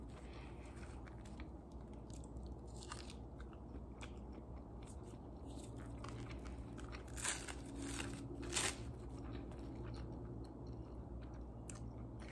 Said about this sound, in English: Let me eat a few pieces of these on camera.